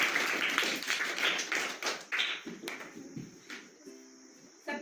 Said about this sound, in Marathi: रोहिणीसाठी जोरदार टाळ्या